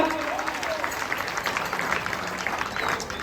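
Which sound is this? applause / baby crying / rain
applause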